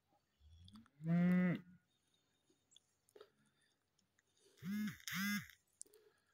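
Cattle in a muddy November pasture moo several times, one long low call early on, then two shorter calls in quick succession later, fairly close, with quiet rustling between.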